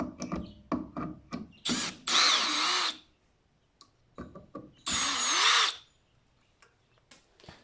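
A Milwaukee M18 brushless compact drill whirs in two sustained bursts, each about a second long, removing a screw, with clicks and handling knocks between and after them.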